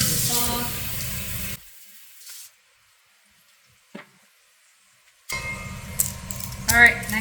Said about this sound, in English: I'm actually going to wash my board a little bit